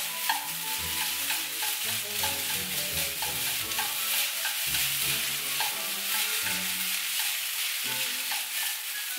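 A seafood dish with lobster and green onions is stir-fried and tossed in a hot pan. Loud, close sizzling continues throughout, with repeated rhythmic scraping and clattering of the spatula as it mixes.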